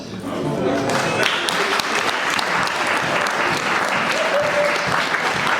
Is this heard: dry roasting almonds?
no